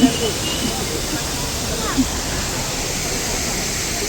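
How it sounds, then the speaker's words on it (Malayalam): A waterfall at Munnar roars as a steady, loud broadband rush, with a couple of brief faint sounds rising over the constant wash of water. "വെള്ളച്ചാട്ടം എങ്ങനെയുണ്ട്?"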